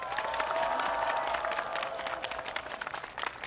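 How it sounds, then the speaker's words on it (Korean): A large crowd at an outdoor political rally applauds steadily, a dense, sustained wash of clapping with some cheering mixed in, heard from amid the audience. "다시 한번 박수 보내주십시오."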